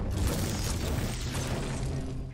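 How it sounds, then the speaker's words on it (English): Impulse grenades going off in a video game, a continuous roar of overlapping blasts and booms that fills the whole stretch at steady loudness, with no voice over it. "whenever you also open up that drop, it'll spawn countless impulse grenades"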